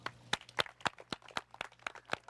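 A handful of students in a school classroom clap in scattered, separate claps, about nine sharp hits spread unevenly over a couple of seconds, fairly close with no talking.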